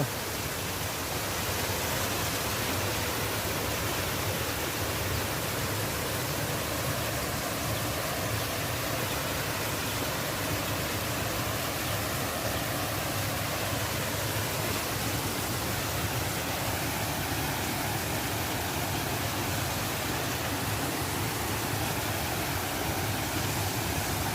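A waterfall near the Mount Abu road gives off a steady, dense roar of rushing water that stays even and unbroken throughout, with no voices over it.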